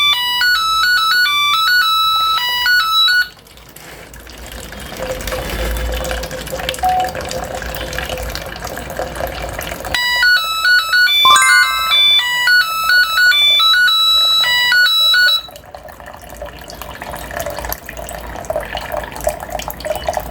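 A water tank overflow alarm from a five-stage water level indicator plays a repeating melodic electronic tone pattern in two bursts, over steady running water filling the tank.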